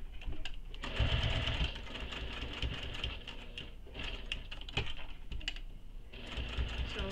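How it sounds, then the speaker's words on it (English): A sewing machine stitches around the edge of a nylon bag in steady, close mechanical bursts, pausing briefly between runs and restarting. "Now I'm going to sew all the way around."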